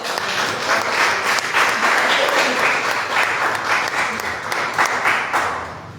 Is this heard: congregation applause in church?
yes